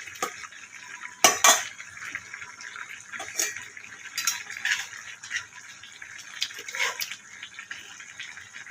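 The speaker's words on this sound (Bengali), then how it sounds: "আচ্ছা, এবার নেড়ে চেড়ে এটা ঢাকা দিয়ে দিই।" A cooking pot of potatoes and fish is stirred and then covered, giving clinks and metallic clatters from a spoon and lid at close range, with a soft background hiss.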